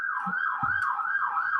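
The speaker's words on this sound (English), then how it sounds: "Oh, some sirens." A fire engine siren wails in a steady rising-and-falling cycle, loud and continuous over faint background noise, with no talk.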